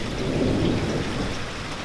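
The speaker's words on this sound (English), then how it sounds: "I can't believe it's raining outside." Rain falls steadily outside with low, rolling thunder, a dense, continuous wash of noise heard alone with no voices.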